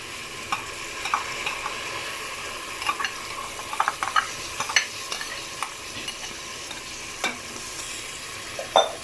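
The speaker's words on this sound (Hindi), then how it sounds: "इसमें जो है हम दाल डालेंगे।" Lentils go into a pan of pumpkin curry and are stirred. A soft sizzle of frying runs under scattered spoon clicks and scrapes, quiet and close, with no talking.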